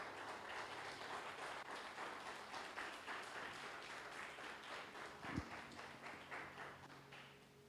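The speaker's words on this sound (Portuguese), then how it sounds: "Dê uma salva de palmas ao Senhor." A church congregation applauding during a Portuguese-language service, a sustained broad wash of clapping at moderate distance that holds steady across the clip and fades slightly at the end.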